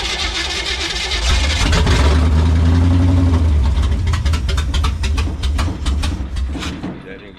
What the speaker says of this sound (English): And then we're going to mash the start key.